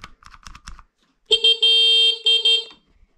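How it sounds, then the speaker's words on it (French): A loud, shrill horn on a Booster 13P scooter honks several times in short and longer bursts, each blast close and piercing, following a few faint clicking knocks. "Par contre, le klaxon, il casse les oreilles."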